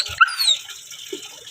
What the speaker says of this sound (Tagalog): Aso ko na to.